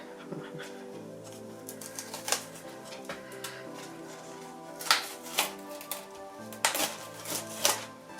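Sourdough bread dough mixed with a fork in a bowl, giving a series of sharp clicks and scrapes that grow louder and more frequent toward the end, over a quiet hum.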